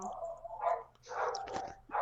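Several dogs bark indoors at home, a few loud close yaps and woofs in separate bursts with brief pauses between them and no talking.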